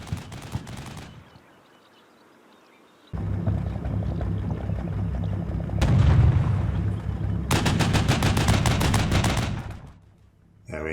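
M60 tank fire in the Combat Mission Cold War video game comes as rapid machine-gun bursts followed by a long low engine rumble, with another sustained rattling volley later and a sharp burst at the very end.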